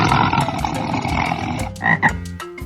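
A frog croaks in a run of quick, rhythmic calls, loud and close, with a few stronger croaks near the end and no talking.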